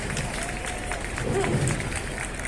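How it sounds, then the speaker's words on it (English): Crowd applause for four men outdoors in Vancouver, a steady wash of many clapping hands with cheering and chatter mixed in, continuous and moderately loud throughout. "the biggest round of applause that you've ever received in their entire lives"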